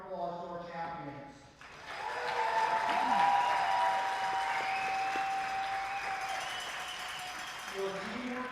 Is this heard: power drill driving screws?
no